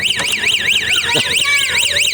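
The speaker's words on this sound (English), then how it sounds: "I am just waiting for that siren to go off." A wailing siren at a museum cycles up and down rapidly and loudly, alongside a person talking.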